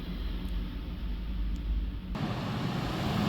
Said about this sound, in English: but the wind is really picking up behind me as well.